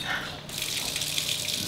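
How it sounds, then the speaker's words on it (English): Rain shower head running in a luxury penthouse bathroom, a continuous hissing spray of water that swells after a brief softer start and holds steady, close and fairly loud. "Just rain. Type shower head, man."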